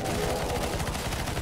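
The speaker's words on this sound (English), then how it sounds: "Just shoot. Everyone shoot." Rapid, dense gunfire from the video game CS:GO on the zombie escape map ze_eternal_grove_v3, with several players shooting together. It comes as a continuous, loud, crackling barrage with no talk over it.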